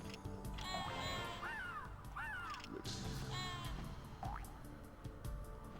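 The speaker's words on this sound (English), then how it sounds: "the really loud bird is loud on my TV" Loud cawing bird calls from the PS1 video game Frogger, several harsh repeated caws with an echo over busy game music and background sound.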